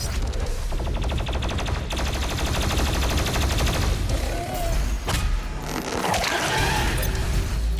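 The BFG 10,000 firing in DOOM Eternal comes through as rapid, repeating mechanical bursts layered over deep rumbling booms, loud and close all the way through.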